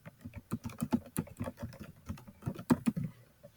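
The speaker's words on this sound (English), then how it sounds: "I type the title in" Rapid keystrokes on a computer keyboard as a title is typed, an uneven run of close, crisp clicks and taps with brief pauses, no voices.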